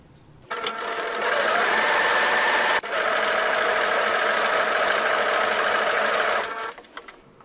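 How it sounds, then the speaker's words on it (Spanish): Domestic sewing machine running a zigzag stitch along the fraying edge of fabric for school trousers, a loud, steady whirring hum for about six seconds with a brief hitch partway through, then stopping. "Pero primero voy a pasarle zigzag para evitar que esta tela se siga deshilando."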